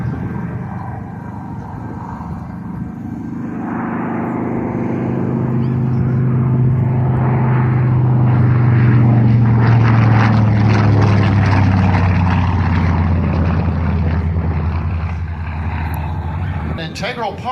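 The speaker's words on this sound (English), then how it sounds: "showing us a little bit of the maneuverability of the Dauntless" A Dauntless propeller warplane flies at an air show. Its deep, droning engine roar swells steadily as it approaches, peaks loudly, then fades slightly as it passes overhead.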